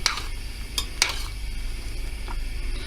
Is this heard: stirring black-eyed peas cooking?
yes